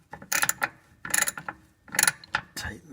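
A ratchet tightens starter bolts on a Pontiac Fiero GT, close rapid clicking bursts in short repeated strokes with brief pauses between them.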